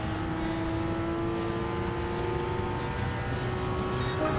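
Porsche Cayman GT4 race car in Gran Turismo 7, a steady engine drone at sustained revs, faint and even throughout with no talk.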